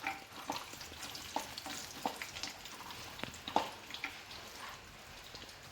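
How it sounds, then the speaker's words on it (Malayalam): Cashews and almonds fry in a spoonful of ghee in a pan for jackfruit halwa, a soft, steady sizzle with faint stirring taps, heard alone. "ആ നെയ്യിലേക്ക് എടുത്തു വെച്ച കശുവണ്ടിയും ബദാമും ഇട്ട് കൊടുക്കുക."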